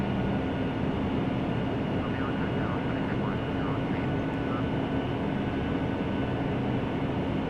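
Avianca Boeing 757-200 airliner in Flight Simulator X, its engines giving a steady, broad droning roar that holds evenly throughout with no pauses.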